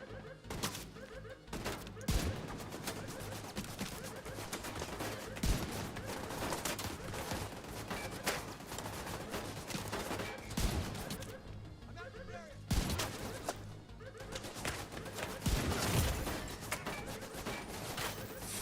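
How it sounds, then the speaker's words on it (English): Gunfire from a zombie shooter video game, with dense, continuous bursts of shooting and sharp cracks and thuds throughout, loud and busy, with occasional brief pauses between volleys. "Friggin' machine gunner's tearing me up."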